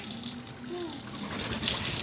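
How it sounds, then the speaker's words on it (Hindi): Water sprays from a pipe sprinkler on a farm field in hot weather, a continuous gushing rush that grows slightly louder, with faint background sounds beneath it. "देखो फुहारा चला रही"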